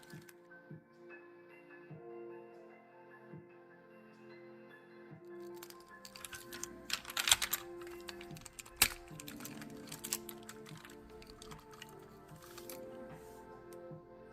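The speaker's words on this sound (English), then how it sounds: "let's undo all the associated screws to take it apart" A Tomy Plarail Talk and Action Percy toy train being taken apart, its small screws undone: close, intermittent plastic clicks, creaks and scratchy ticks, busier and louder in the middle, over a faint steady background hum with no talking.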